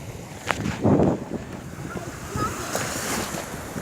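Ocean surf washes onto a beach in a steady broadband rush with wind buffeting the microphone, a louder wave swell near the start, and faint voices in the background.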